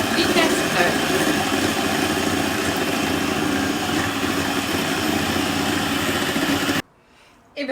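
Electric mixer whirring at its lowest speed through cheesecake batter, a steady, loud motor drone that runs without a break and then cuts off abruptly near the end.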